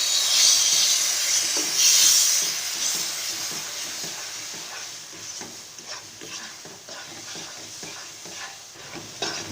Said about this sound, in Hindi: अब जो मिक्सचर मैंने दूध का भी रेडी किया है ये मैं आहिस्ता आहिस्ता से शामिल करती जाऊँगी